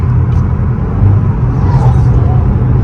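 Turbocharged car under hard acceleration with its turbo running louder, a steady, dense engine rumble filling the clip throughout.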